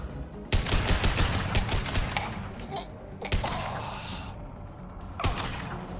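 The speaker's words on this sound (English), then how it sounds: "Taking heavy fire." Heavy automatic gunfire rattles through a Mass Effect 2 firefight, loud and continuous in dense bursts with brief breaks, with voices talking over the shooting.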